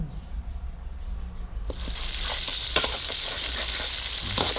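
Eggs with giant water bugs frying in a pan, a steady loud sizzle that swells sharply after a quiet start, with occasional pops and spatters and no talking.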